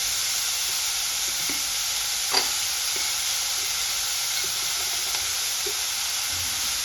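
Tomatoes sizzle steadily in a hot pan for bisibele bath, with soft scraping stirs and small clicks of the spoon breaking through the even frying hiss, close and alone.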